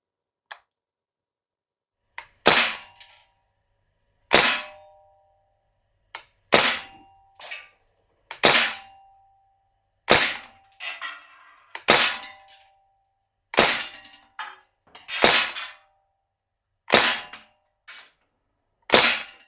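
Crosman ST-1 CO2 blowback full-auto steel BB machine gun firing outdoors in about a dozen sharp, loud cracks, some in quick double or triple bursts, separated by pauses of a second or two.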